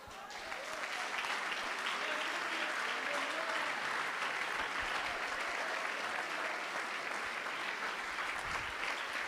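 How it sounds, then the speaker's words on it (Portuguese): Church audience applauding warmly, a continuous wash of many hands clapping at moderate distance, building quickly and staying even throughout. "Isso, aplauda com amor."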